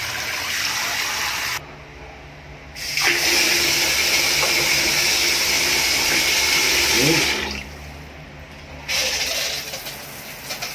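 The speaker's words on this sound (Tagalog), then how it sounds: "Ayun na to, ang ganda ng shower mo." Water from a shower fed by an electric water pump on a third floor, running loud and steady as a broad hiss, with brief drops in level where the flow seems to cut and restart.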